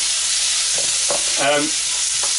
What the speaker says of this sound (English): And then you give that a stir.